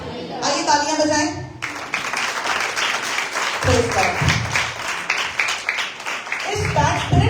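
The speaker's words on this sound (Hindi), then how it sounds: "आइए तालियां बजाएं।" A church congregation claps during a sermon, a dense burst of applause swelling after a short spoken lead-in and carrying on steadily, with voices and shouts mixed in.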